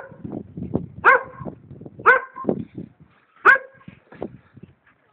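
Dogs on a peninsula bark in three sharp, loud yelps with scattered lower whines and grunts between them, close by and without speech.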